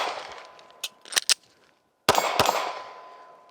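A Taurus GX2 TORO pistol is reloaded with a new magazine: sharp metallic clacks and clicks ring out in a cluster, then two loud, close snaps follow as the magazine seats and the slide drops, with no talk.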